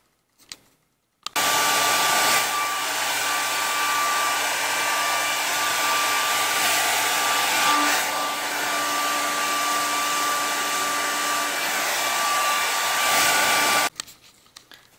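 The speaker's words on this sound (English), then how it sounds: "so now we're going to blow dry" A hair dryer blow-dries a small dog after its bath during grooming, running as a loud, steady, continuous whir close by for about twelve seconds, switching on and off at either end with no talking.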